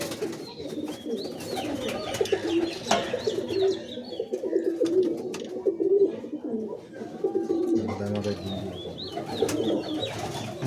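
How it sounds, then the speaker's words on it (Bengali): Pigeons coo in a home pigeon loft of prize racing and Madras pigeons, a dense overlapping chorus of soft throaty coos repeating close by throughout, with human voices talking over the birds. "দেখছেন পায়রার লফটটা"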